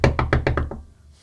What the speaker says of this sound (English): who's banging the door like that?